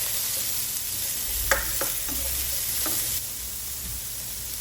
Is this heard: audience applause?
no